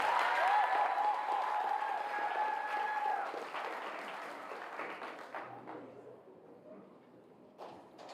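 Audience applause at a school awards ceremony, a dense wash of clapping that starts loud and gradually thins and fades over several seconds, with a few scattered claps at the end.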